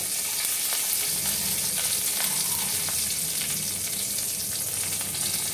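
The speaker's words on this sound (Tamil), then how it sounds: "கருவேப்பிலை போட்டுக்கிறேங்க." Curry leaves fry in hot oil with asafoetida and a dried red chilli, a steady, close, hissing sizzle with faint crackles throughout.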